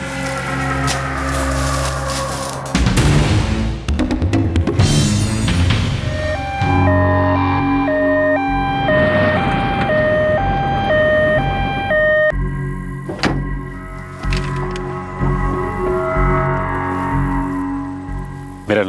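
Ambulance siren wailing in a tense scene, rising and falling tones sounding loud and close amid layered dramatic sound effects.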